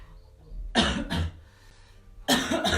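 A few harsh coughs close by, two quick bursts followed after a pause by a longer, rougher cough.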